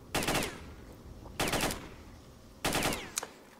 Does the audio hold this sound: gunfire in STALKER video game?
yes